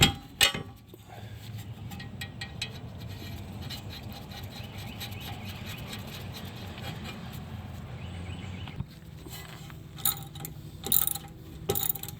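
Torque wrench tightening a bolt on a 2000-2006 Lincoln LS rear wheel bearing, giving a sustained run of ratcheting clicks up close, followed by sharper metallic clinks and knocks near the end.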